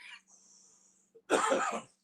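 A single harsh cough bursts out after a faint breathy sound and a brief pause, close and fairly loud.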